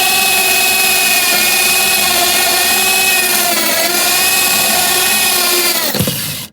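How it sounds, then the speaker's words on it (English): A power drill bores steadily through the thin outer skin of a motorhome wall, a loud continuous whine held for several seconds before it cuts off abruptly as the bit breaks through. "So now drilling through the second skin of the"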